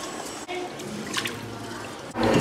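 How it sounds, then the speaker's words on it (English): Water is poured into curry paste in a kitchen, making a continuous close trickling and splashing that swells briefly near the end. "We can add water to it to make it little thinner."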